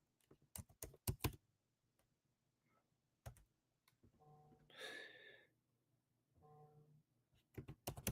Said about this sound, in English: I'm typing that now.